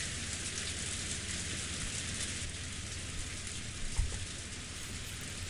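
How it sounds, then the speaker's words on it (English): Steady rain falls in the Umineko visual novel, a dense, even hiss of rain at a constant level with a soft thump near the end. "All that could be heard was the sound of the rain"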